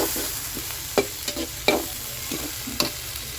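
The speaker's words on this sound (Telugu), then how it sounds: "కొద్దిసేపు మగ్గించుకుందాం నూనెలోనే" Tomatoes fry in oil in a pan, a soft steady sizzle broken by several sharp scraping strokes of a spoon stirring them, close up with no voices.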